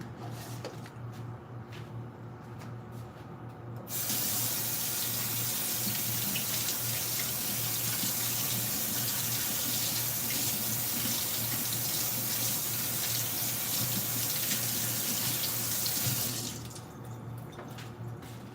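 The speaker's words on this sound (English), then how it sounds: "I'm gonna just rinse my hands a little bit." A kitchen tap runs steadily while hands are rinsed during curry chicken preparation, a loud continuous rush of water lasting about twelve seconds before shutting off.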